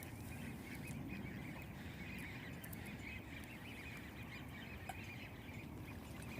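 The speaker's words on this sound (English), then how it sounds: "I hear what might be like 1 billion ducklings." A large group of ducklings calls in the distance outdoors on a Northwest Seattle street, faint and continuous peeping over a steady background of outdoor noise.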